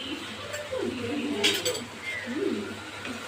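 A spoon stirs roasted ground spice mix into a pot of Kolhapuri pandhara rassa, with soft scraping and light metallic clinks against the pot close by, plus a brief faint bird-like coo.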